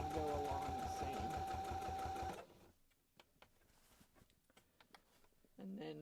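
A sewing machine stitches along the seam of a reversible bucket hat, a fast rattling run for about two seconds that stops abruptly, followed by scattered handling clicks and a brief restart.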